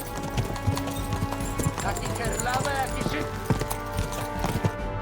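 Galloping horse hooves from Kingdom Come: Deliverance II, a rapid clip-clop rhythm that runs steadily throughout, mixed with game music and noise while voices talk over it.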